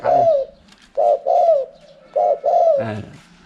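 Soft, low dove coos in repeated two-part phrases with short pauses between them, close and clear, with no voices.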